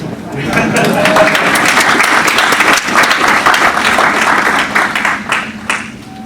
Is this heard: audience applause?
yes